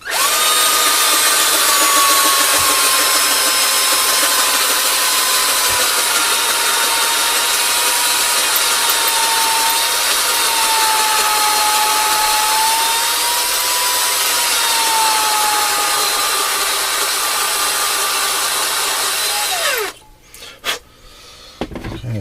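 A cordless drill on a low battery grinds an RC axle with a continuous loud whirring whine, its pitch drifting slightly up and down, until the motor winds down and stops, leaving brief handling noises.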